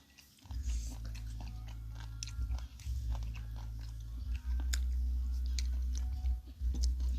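Close, crisp crunching and chewing of spicy Thai pounded enoki and king oyster mushroom salad, with irregular bites and crackles over a low steady hum.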